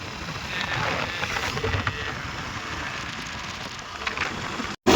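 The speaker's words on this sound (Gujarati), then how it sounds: "વરસાદ બહુ ચડ્યો" Heavy rain falls in a dense, steady hiss through a broadband wash, fairly loud and continuous, with a sudden brief dropout just before the end.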